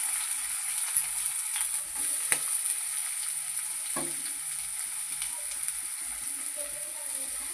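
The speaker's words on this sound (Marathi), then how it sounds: "तर आता आपण हे फोडणीला देऊया." Spices sizzling in hot oil as a tempering for a dried bombil (Bombay duck) masala, a steady close hiss with a few sharp clinks of a spoon or pan, no voices.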